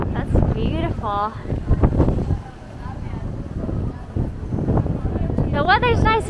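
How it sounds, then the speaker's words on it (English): Strong gusty wind on the Mallorca coast buffets the microphone in continuous low rumbling bursts, with people talking and exclaiming over it throughout. "The weather's nice, it's just super windy."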